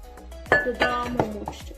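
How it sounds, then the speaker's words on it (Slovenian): Potatoes are tipped into a larger bowl, making a few sharp clinks and clattering knocks against the dish that come in uneven bursts close by. "Krompir stresamo v večjo posodo"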